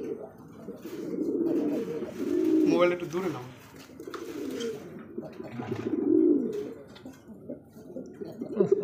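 Pigeons at a large Bangladeshi pigeon farm, among them a white-tailed male, give repeated low cooing calls close by, in swelling bursts, while people talk nearby.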